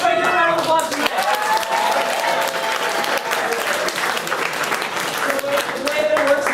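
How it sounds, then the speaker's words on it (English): An improv show audience claps and cheers in a dense, steady burst of applause lasting several seconds, with voices calling out through it. "Matt, everybody give a round of applause for Matt."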